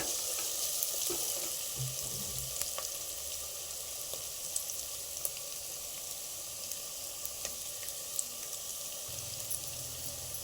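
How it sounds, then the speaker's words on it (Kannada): Chopped onions fry in a pan for egg pulav, making a steady, even hiss of hot oil with faint crackles and soft clinks, close up and without speech. "ನೋಡಿ ಈರುಳ್ಳಿ ಫ್ರೈ ಆಗ್ತಾ ಇದೆ"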